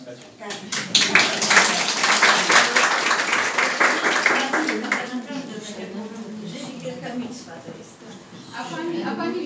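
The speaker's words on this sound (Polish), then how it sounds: "Powinniśmy klaskać." An audience at an exhibition in the Sleńdziński Gallery, Białystok, breaks into close, dense applause for about five seconds, then the clapping thins out and fades beneath voices talking in the room.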